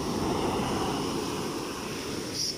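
Strong sea waves roll onshore in a continuous broad wash of surf, with wind rushing against the microphone and no voices.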